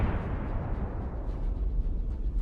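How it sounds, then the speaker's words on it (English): A Russian tank blowing up after a drone strike, its equipment torn apart from the inside: a loud, sustained deep rumbling roar of explosion with no talk, lasting a couple of seconds. "The explosion tears the occupier's equipment from the inside."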